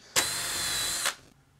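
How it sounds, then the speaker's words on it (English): A power drill bores holes for meters in a ham radio go box, one loud, close, steady whine lasting about a second before spinning down. "Now the last thing we gotta do is just drill the holes for our meters"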